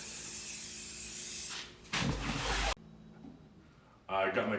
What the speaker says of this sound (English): So we're gonna give it a good coat of black spray paint.